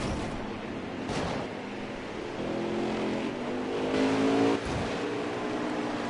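Dirt late model race cars roar around Eldora Speedway at night, a steady loud engine drone with rising revs as cars pass, no voices over it.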